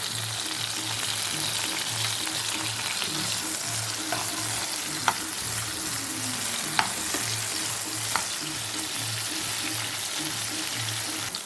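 Chopped tomatoes and cashews sizzle steadily in a hot pan, with a loud continuous fry and a few sharp scraping clicks from stirring, no talking.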